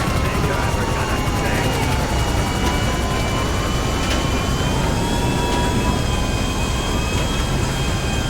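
Continuous loud roar of a video game airplane engine with a wavering whine, steady throughout and close.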